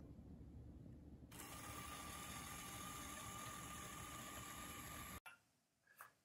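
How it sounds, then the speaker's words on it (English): A small electric motor in a model snowmobile runs with a steady, even whir that holds for about five seconds, then cuts out abruptly. A few faint knocks follow. "You should be able to hear the motor moving when you spin the drive wheel."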